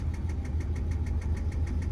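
A 2004 Subaru Legacy engine idling unevenly with a pressure problem, a low steady rumble broken by rhythmic ticking hiccups repeating about every quarter second, close and fairly quiet.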